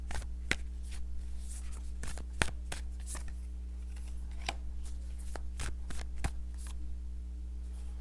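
Tarot cards are shuffled close by in a run of crisp riffling bursts and slaps, irregular and repeated, over a low steady hum with no talking.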